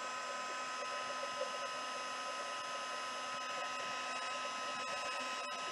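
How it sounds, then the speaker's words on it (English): A new, quieter heat gun blowing steadily while heat embossing a card, a continuous close whooshing whir with an even tone and level, alone without talk. "now I have the new heat gun. It's a lot quieter. And I am going to heat emboss this."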